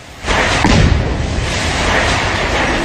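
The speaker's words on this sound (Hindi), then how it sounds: "इस तरह घर को उड़ाने के बाद जोरदार धमाका हुआ" A house is blown up in a loud explosion: a sudden heavy blast followed by a sustained rumbling roar that fills the rest of the moment, with no voices.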